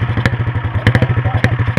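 Motorcycle engine revving close by, a rapid rhythmic chugging pulse with sharp throttle bursts and rattling clatter throughout, with a voice talking over it.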